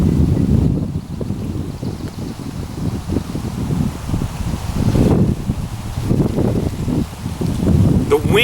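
Steady wind buffeting at an outdoor survival camp, a continuous low rumbling rush with gusty swells throughout, loud and close as if hitting the microphone.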